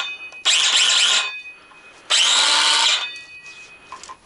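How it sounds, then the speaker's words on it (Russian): A Redverg miter saw whines loudly in two separate bursts, each lasting under a second with a pause between them. Softer clunks follow. "И в общем, ребята, торцовочная пила."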